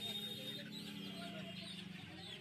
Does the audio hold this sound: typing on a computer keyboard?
no